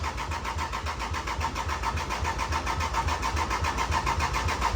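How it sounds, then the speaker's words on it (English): A Lexus IS300 engine idles steadily with a rhythmic, pulsing thump from an exhaust leak, loud and close, no voices. "that thump is insane. Is that an exhaust leak?"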